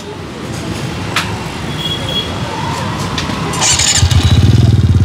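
Aprilia Storm 160 scooter engine fitted with an aftermarket exhaust idles with a steady close rumble, then a throttle blip near the end brings a louder, pulsing exhaust note.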